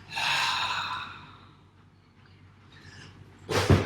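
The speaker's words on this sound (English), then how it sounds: "And breathe out and back" A single audible exhale during a yoga breathing exercise, a soft breathy sigh that fades into quiet, followed by a brief louder breath or rustle at the end.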